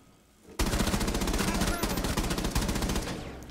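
Rapid automatic gunfire in Rainbow Six Siege erupts after a brief quiet moment, a dense continuous burst of loud shots with a synthetic, game-like quality that holds for several seconds.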